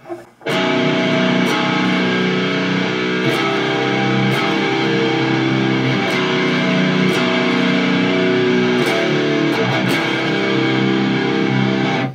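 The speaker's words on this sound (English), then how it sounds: "So if we were just playing the normal power chords for that" Distorted electric guitar power chords from a death-doom metal riff ring out loud and sustained, shifting between a few chords with crisp pick attacks, played alone without talking.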